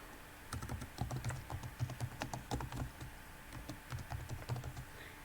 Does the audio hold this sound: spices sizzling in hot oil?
no